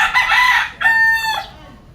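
Sweater gamefowl rooster crowing close by, one loud drawn-out cock-a-doodle-doo in two bursts, then fading.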